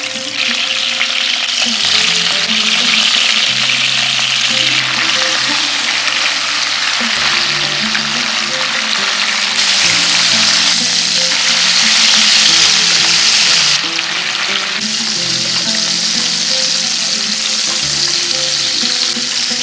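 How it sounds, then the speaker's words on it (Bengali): Marinated cauliflower pieces fry in hot oil over medium flame, giving a loud, continuous sizzle with occasional stirring, close up and without voices. "তেল গরম হয়ে গিয়েছে, এরপর ম্যারিনেট করে রাখা ফুলকপিগুলো দিয়ে দেব।"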